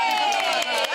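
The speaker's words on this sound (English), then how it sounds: "Give yourselves a round of applause." A studio audience cheers and claps in a brief, loud burst of excited crowd noise with high shrieks mixed in.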